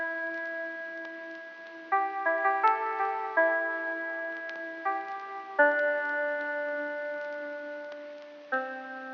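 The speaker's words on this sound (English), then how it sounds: "I booted up a free plugin called Sapphire Guitar Essential, and it just sounds like this" A soft, clean lo-fi hip-hop guitar melody from the Sapphire Guitar Essential plugin in FL Studio plays alone. Plucked notes ring and overlap in a slow, gentle phrase at modest volume.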